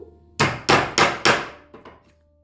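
A large nail is driven with a hammer, making four loud, evenly spaced metallic strikes and then two fainter taps, close and with no talking.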